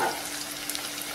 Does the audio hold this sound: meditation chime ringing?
no